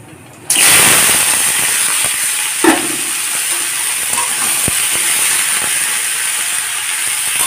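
Potato, eggplant and yardlong beans hit hot mustard oil with panch phoron, bursting into a loud, close, steady sizzle that holds without pause, with a few small clinks of the pan underneath.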